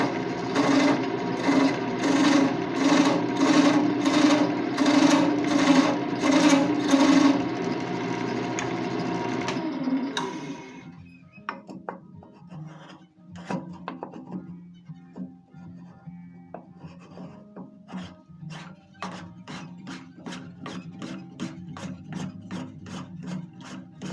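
Threads are chased in wood on a lathe: rapid rhythmic rasping pulses over the spinning workpiece, loud at first, then a quieter stretch of lighter, sparser scraping passes as the cutting continues.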